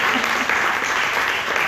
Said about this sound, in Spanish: Aplaudimos.